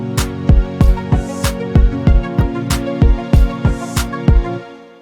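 An Omnisphere anticipation of energy pluck synth rides over sharp, evenly spaced percussion hits. Punchy kick-like thumps land about twice a second under sustained tonal layers, loud and up close, and fade out at the end.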